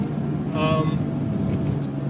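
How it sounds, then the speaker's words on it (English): Air-cooled rear-mounted Porsche engine running steadily with a low, even hum, with a brief harmonic tone partway through and some background murmur. "Of course, it's an air-cooled engine that's in the back of the car. It's a very distinctive sound."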